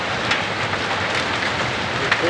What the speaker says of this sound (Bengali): অবস্থা এই শিল কেমনে পড়তেছে